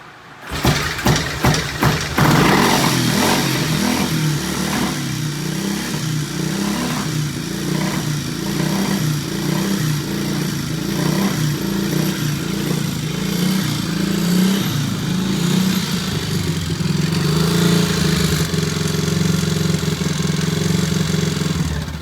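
A T50M engine on its first start, held at about half throttle, runs with a steady throbbing drone after a few sputtering catches at the start, mid-loud and close, with the note shifting slightly near the end.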